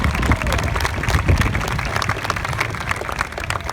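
A Q&A audience gives a dense, steady wash of clapping mixed with crowd noise that runs throughout without pausing.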